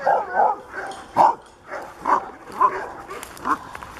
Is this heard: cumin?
no